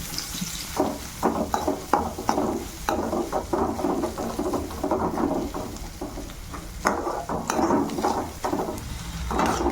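Sliced onions, cumin, asafoetida and curry leaves sizzle in a pan for bhindi subji, with a spoon scraping through them in repeated strokes. The frying hiss stays soft and continuous, and no one speaks.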